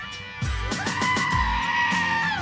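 A goat screams with loud, wavering, harmonic-rich cries, several in quick succession over about two seconds, with low thumping underneath.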